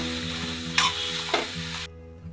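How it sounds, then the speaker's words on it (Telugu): Tomatoes softening in a hot pan with salt and turmeric, a soft steady sizzle with a couple of brief spoon scrapes, close and alone under a humming background tone. "టమాటా మెత్తగా వేగిందండి."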